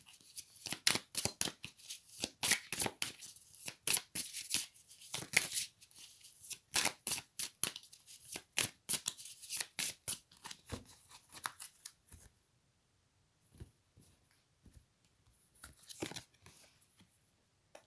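Tarot cards are shuffled in quick, crisp riffling bursts for about twelve seconds, followed by a pause and then a few sparse, quieter card slaps and slides as cards are drawn.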